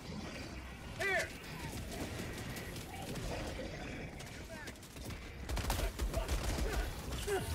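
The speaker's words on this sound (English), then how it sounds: "Stop shooting!" Rapid video game gunfire crackles through a dense mix of effects, with a few louder bursts and a busy, sustained background of battle noise and voices.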